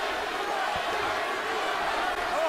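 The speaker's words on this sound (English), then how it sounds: "the crowd begins to chant Bradley, Bradley" Large boxing arena crowd roaring and chanting during the Timothy Bradley vs Ruslan Provodnikov fight, a dense, steady wash of many voices at moderate distance with no clear individual words.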